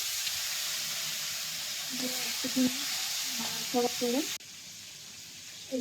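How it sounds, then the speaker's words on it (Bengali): Cumin seeds and bay leaf tempering in hot oil left over from frying fish, giving a steady soft sizzle throughout, with brief stirring knocks and a few short vocal sounds over it. "এখন সেই মাছ ভাজার তেলে আমি জিরে ফোড়ন দিচ্ছি"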